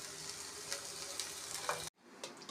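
Pieces of ginger and torn tamarind fry in a pan for a ginger chutney, giving a steady, close crackling sizzle that cuts off abruptly near the end before resuming more quietly.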